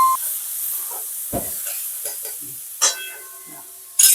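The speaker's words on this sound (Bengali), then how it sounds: "এটাকে আমি একটুখানি কষিয়ে নেব" Ground masala paste thinned with a little water and stirred in a pan for a tangra fish curry, giving a soft steady sizzle with scattered stirring scrapes and a couple of louder clatters.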